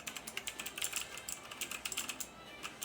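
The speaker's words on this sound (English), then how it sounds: "For all you guys who are not annoyed by the clickiness of certain mechanical keyboards, this is like an ASMR trip." Clicky typing on a Motospeed CK62 mechanical keyboard with Outemu Blue switches, a close, steady patter of sharp keystrokes running throughout with no voices.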